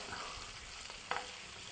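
Shrimp frying in a pan with crushed red pepper gives a steady close sizzle, with a short bright scrape of stirring near the end.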